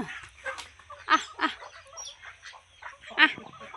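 Chickens and ducks call nearby while feeding on grain, a series of short honking and clucking squawks spread irregularly over a few seconds, with faint rustling underneath.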